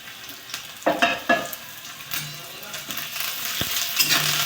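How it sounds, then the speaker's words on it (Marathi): Onion, green and red chillies, curry leaves and mustard seeds frying in two spoons of oil with peanuts for kande pohe: close crackling sizzle with sharp spatula scrapes and a metallic clink against the pan, no talking. "कांदा, हिरवी मिरची, लाल मिरची, गोडलिंबाचा पाला आणि मोहरी घालून 2 चमचे तेल घालून फ्राय होतं आहे"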